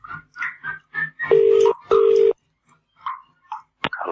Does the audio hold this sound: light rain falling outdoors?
no